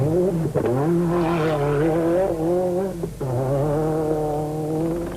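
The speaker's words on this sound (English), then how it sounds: "Mud, slush and sludge were the order of the day as these powerful vehicles blasted their way through the previously peaceful terrain" Powerful rally cars from the 1992 Rallye de Tunisie blast through mud and slush. Their engines roar loud and close in a continuous, wavering drone, with sharp dips and pitch shifts as the drivers shift gears.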